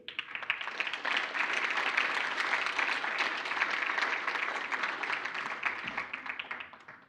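Applause at a school mathematics awards function in South Africa, sustained crowd clapping from a large audience that holds steady for several seconds and then tapers off.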